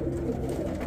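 Homing pigeons, including blue bars, coo in a low, steady murmur close by. The sound runs continuously without a break, and no one speaks.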